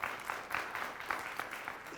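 Light, rapid hand clapping from a small child at home, a dozen or so soft claps in an uneven rhythm, close by with no talking.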